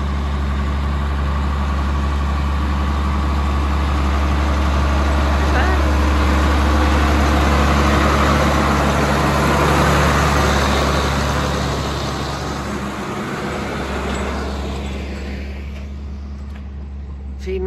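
A tractor engine runs at a steady idle on a mucky farm while round bales are fed, giving a loud, continuous low rumble that swells and eases slightly; people talk over it.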